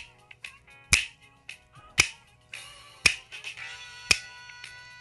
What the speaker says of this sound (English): Well, there's some huge finger snaps.